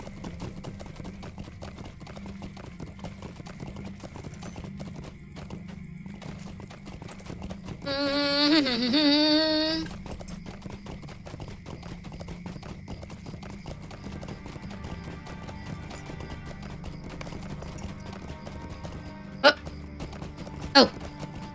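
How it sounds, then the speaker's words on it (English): Horse hooves clip-clop in a steady galloping rhythm in the online game The Lord of the Rings Online, running under a constant hum. A whinny rises midway and a couple of sharp clicks come near the end. "Now I can go faster on my horse."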